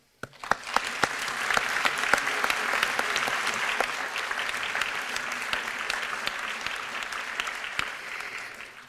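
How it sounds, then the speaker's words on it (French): An audience claps for new doctoral graduates at a Normandie Université degree ceremony, a warm, even round of applause with crisp individual claps, starting suddenly and fading slightly toward the end. "je pense qu'on peut les applaudir"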